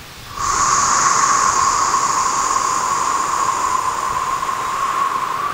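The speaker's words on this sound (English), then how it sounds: "with a long exhale, kind of a swooshing sound." A long, steady swooshing exhale through an open mouth during gentle yoga breathing, a sustained close breathy hiss lasting several seconds with no talking.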